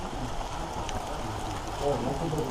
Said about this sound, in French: La pluie est au rendez-vous.